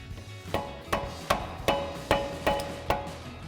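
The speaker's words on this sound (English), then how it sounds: "And we'll just give it a few taps." Seven light, evenly spaced hammer taps ring out on the rear brake caliper retainer ring of a 1999-2002 Mustang, each a sharp metallic knock in a quiet workshop.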